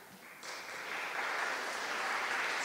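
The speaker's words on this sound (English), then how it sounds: "let's give that a clap." An audience claps, faint at first and then swelling into steady, dense applause that holds to the end.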